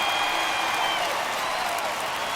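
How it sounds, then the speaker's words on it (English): Stadium crowd in MLB The Show 21 with the Astros at home, a steady broad roar of cheering and applause held at even loudness throughout, with no distinct voices standing out. "the Astros are a great crowd"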